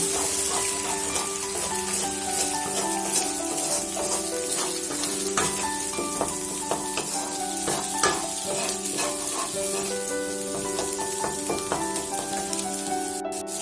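An egg fries in a hot pan for restaurant-style egg chicken chowmein, giving a loud, continuous sizzle close up, with repeated scraping and clanking of a spatula stirring and spreading it.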